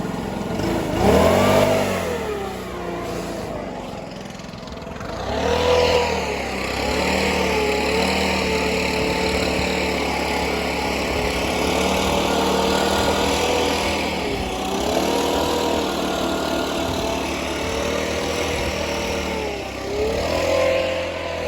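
A new Stihl backpack leaf blower's small two-stroke engine runs close by, revving briefly at the start, then settling into a steady, buzzing idle with slight rises and dips.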